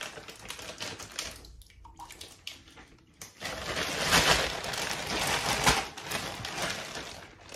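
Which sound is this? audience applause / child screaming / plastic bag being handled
plastic bag being handled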